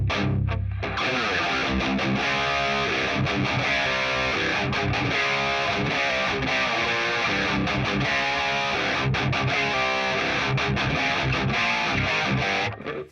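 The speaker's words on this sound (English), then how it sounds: "with some tweaking, I can get some pretty nice, very organic sounding distortion from this." Electric guitar is played through a NUX amp modeler with organic-sounding distortion, a loud, continuous, saturated riff of chugging chords and ringing notes lasting throughout.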